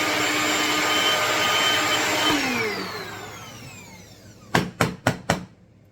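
A blender whirs loudly as it purees tomatoes into thick tomato paste, and the motor's whine slowly winds down. Four sharp knocks follow close together near the end.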